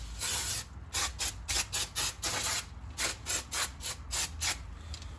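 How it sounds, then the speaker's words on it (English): Repeated short hissing bursts of brake cleaner sprayed onto the outside of a brake caliper on a 2011 Toyota Sienna, about a dozen quick pulses in an uneven rhythm, close and fairly loud. "I'm gonna go ahead and spray the caliper on the outside"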